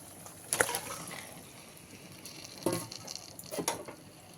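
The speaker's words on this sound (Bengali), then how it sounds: "আমি এবারে ম্যারিনেশন করে রাখা মাংসটা এর মধ্যে দিয়ে দিলাম" Marinated chicken dropped into hot, oil-rich fried spice masala in a pan, giving a soft steady sizzle with a few sharper hissing bursts as pieces hit the oil, fairly quiet and without talk.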